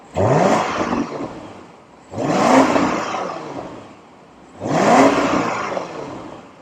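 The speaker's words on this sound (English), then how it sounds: "So I almost forgot to do the revving. So I got that engine in Sport Plus." A 2024 BMW X7 M60i's engine in Sport Plus mode is revved three times in succession, each blip rising sharply and then falling away, loud and close with short quiet pauses between bursts.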